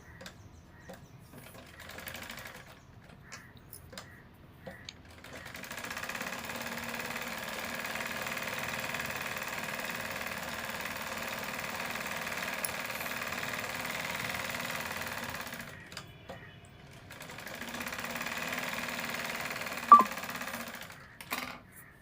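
A sewing machine stitches lining around a blouse in two bursts, a quiet, steady mechanical whirr running about ten seconds, then a shorter run after a pause, with faint clicks and handling noise in between.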